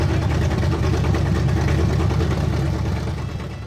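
A 1972 Nova's carbureted engine idles steadily with a low, continuous rumble, easing slightly quieter toward the end.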